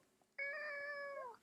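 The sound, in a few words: pet cat meowing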